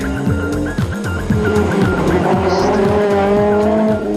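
An ex-Works Opel Manta 400 rally car races on tarmac, its engine loud and close with rapid revving through gear changes and tyre squeal, dominating the short clip.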